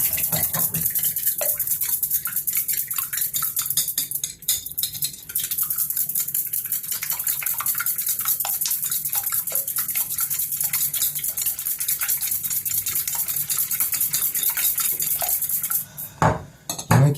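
A spoon scrapes and clinks steadily around a bowl, stirring a foaming baking soda mixture for grain-free keto bread. The stirring is close and continuous, with a few louder knocks near the end and no talk.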